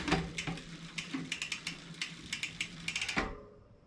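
Repeated dry mechanical clicks and ticks, quick and irregular, as a mountain bike rear derailleur shifts one gear at a time through the cassette, close up and fairly quiet.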